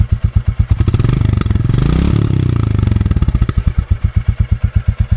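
A nearby 2024 Royal Enfield Classic 350 motorcycle engine thumps at idle, revs up briefly in the middle, then settles back into its steady, rhythmic beat.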